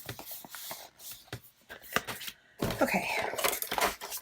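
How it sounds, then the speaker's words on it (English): Scissors cutting paper while making a planner spread, with close crisp snips and rustling that grow busier in the second half, and a brief spoken word partway through. "I'm just going to cut this."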